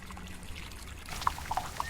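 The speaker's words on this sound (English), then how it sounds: "I'm pouring water from the bamboo tube into this concave airplane aluminum piece to boil and sterilize it." Water pours from a bamboo tube into a concave piece of airplane aluminum, a quiet, soft trickle that ends in a few distinct drips and splashes near the end.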